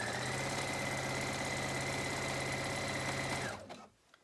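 A sewing machine stitches fabric for a pair of men's boxers, a close, fast, even mechanical whir that runs steadily for a few seconds before stopping abruptly.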